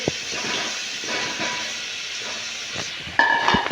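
Potatoes dropped into hot masala in a pan, a steady hissing sizzle throughout that swells louder near the end as the potatoes hit the oil, with a faint whistle-like tone.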